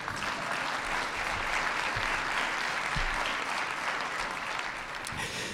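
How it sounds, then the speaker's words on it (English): A large audience applauds an award recipient at the Order of Ottawa ceremony, with steady, dense clapping that stays loud and unbroken for several seconds. "Mr. Agarwal, okay, you may applaud"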